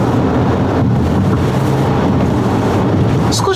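A Volvo XC60 D4 diesel SUV in dynamic mode is driven briskly along a winding road. Steady, loud broadband road and wind rumble runs continuously with no voices.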